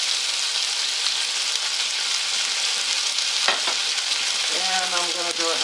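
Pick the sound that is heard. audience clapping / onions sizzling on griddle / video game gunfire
onions sizzling on griddle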